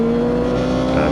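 A car's engine on a reverse-direction track day, heard as a steady, loud, tonal drone as power is applied coming out of a corner.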